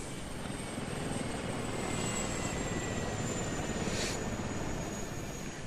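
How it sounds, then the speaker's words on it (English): A helicopter approaching in a military video game, a steady broadband rotor and engine roar holding loud and even throughout, with a faint high whine riding on top. "So here comes the helicopter."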